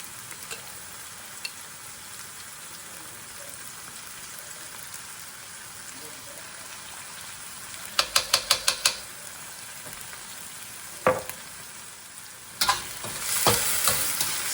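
Chili paste stir-fries in a pan for Malaysian fried rice vermicelli with shrimp, a low steady sizzle with a quick rattle of utensil taps and louder bursts of frying as it is stirred.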